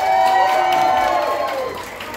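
A concert audience in Yerevan roars with cheering and applause, a loud, dense crowd sound that gradually thins toward the end.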